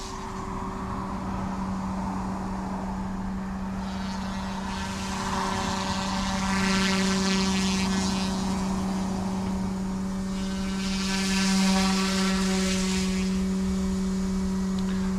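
An OMP M2 EVO RC helicopter hovers close by, its rotors giving a steady tonal hum and whirr that swells and eases in a few gentle surges as it holds position.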